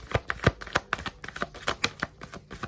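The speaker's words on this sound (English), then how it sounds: "Shuffle again." Tarot cards being shuffled by hand, a run of crisp riffling snaps and soft slaps in uneven quick bursts, close and fairly quiet, with no talking.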